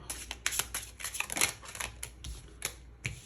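A deck of playing cards being shuffled in a tarot-style card reading, a run of quick papery riffles and flicks coming in bursts, close and fairly quiet, with no talking over it.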